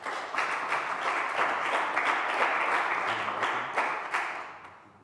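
A student senate bursts into sustained applause as a bill passes at a university government meeting, dense steady clapping from a room full of people that holds for several seconds before tapering off near the end.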